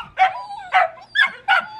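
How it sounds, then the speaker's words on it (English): Six noisy puppies giving four short high-pitched yipping barks with whimpering tones, close and loud, evenly spaced about half a second apart. "I have 6 puppies, and they are very noisy puppies today."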